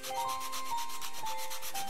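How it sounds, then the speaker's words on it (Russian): Sanding a round wooden toy fence in Toy Tinker Simulator gives a steady, loud abrasive rubbing with rhythmic pulsing strokes that run throughout, heard on its own with no talking. "Шлифуем заборчик."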